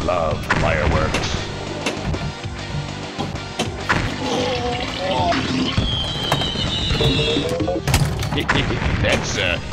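Explosive fireworks and crashing blasts from the pinball game FX3 Junkyard ring out in quick, loud, overlapping bursts, with game chimes and a voice mixed in.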